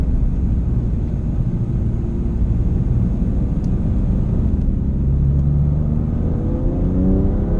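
A 2019 BMW M2 Competition engine roars loudly and continuously at full throttle on Sepang race track, a dense mechanical drone with rising pitch as it accelerates.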